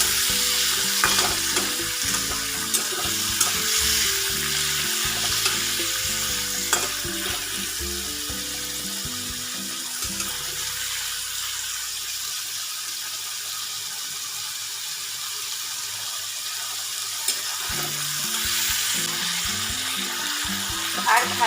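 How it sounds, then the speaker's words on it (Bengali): Prawns fry in oil with turmeric and salt, giving a steady close sizzle with occasional stirring clatter throughout, and no speech. "সামান্য একটু হলুদ আর সামান্য নুন দিয়ে হালকা করে চিংড়ি মাছগুলো ভেজে নেব।"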